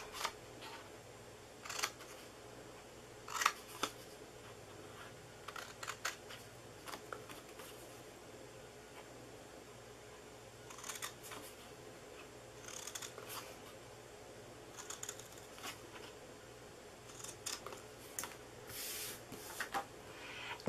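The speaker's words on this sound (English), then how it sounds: "We're going to cut all 4 of these corners off." Scissors snip the four corners off a paper party favor treat box, a scattering of short, soft cutting clicks in irregular bursts over a quiet background.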